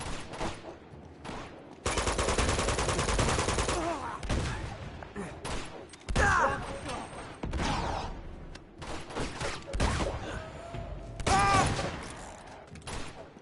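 Pistol fire in Uncharted, loud repeated shots in quick bursts with short pauses between volleys, mixed with game effects and clanks.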